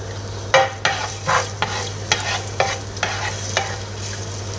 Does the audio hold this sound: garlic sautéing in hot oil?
yes